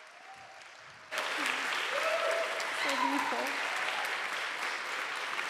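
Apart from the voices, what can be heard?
church audience applause for musician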